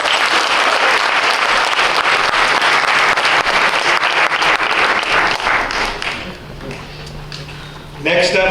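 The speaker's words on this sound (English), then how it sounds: "Let's give him another round of applause." An audience at a 2016 Five Keys art show in San Francisco applauds in a loud, sustained burst of clapping that fades over several seconds before a voice comes in at the end.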